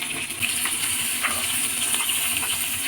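A whole fish frying in a frying pan over a medium flame gives a dense, continuous sizzle with scattered small crackles and pops, close and steady throughout, with no talking.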